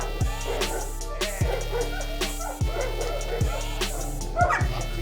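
Malinois dogs shut in a cellar give repeated yelping whimpers with falling pitch, about one per second, alongside bark-like calls, all close and echoing.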